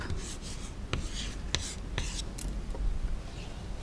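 Pen or pencil writing an answer by hand on paper in an English class exercise, soft scratchy strokes with a few sharper taps, close and quiet, no talking.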